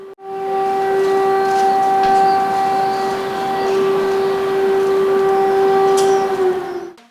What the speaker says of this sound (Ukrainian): тож лунала сирена і у місті Суми